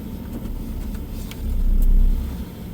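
Engine of a pickup truck in 4-wheel drive pulling out on a winter day, a low rumble that swells into a louder rev midway before easing back, heard close with no talking.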